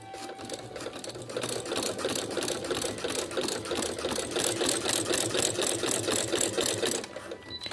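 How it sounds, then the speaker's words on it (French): A sewing machine fitted with a walking foot stitches through velvet, a fast, even mechanical whirring and clatter running steadily for several seconds at close range, with no one talking. "Et on va coudre."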